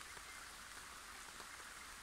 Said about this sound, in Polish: Widzicie, pada cały czas, pada, pada